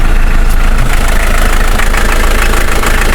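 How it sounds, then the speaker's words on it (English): Big diesel engine idling beneath the cab of a cab-over truck, a loud, close, steady rumbling clatter with an even knocking rhythm that carries on unchanged, with no talking. "Just going to show you here that the engine does runs fine."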